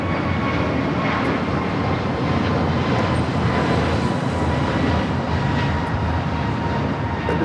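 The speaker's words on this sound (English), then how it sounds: "Delta Airlines 9960 taking off to Boeing Field" A Delta Airlines jet takes off at Los Angeles airport, a loud, steady, broadband engine roar that holds constant throughout, with no voices.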